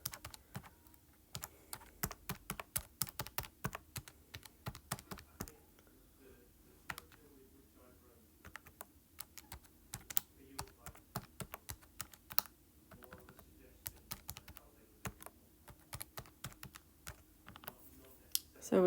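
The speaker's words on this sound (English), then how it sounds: "We're going to type all that on our calculator." Calculator keys pressed in quick, irregular bursts of sharp clicks while a chemistry pH problem is entered, close and fairly clear, with some speech-like murmur underneath.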